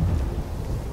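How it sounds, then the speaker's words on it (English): Deep rumbling thunder from an approaching storm in the video game Star Wars Jedi: Survivor, a steady low roll filling a brief moment with faint rain-like hiss and no talk. "Storms are coming."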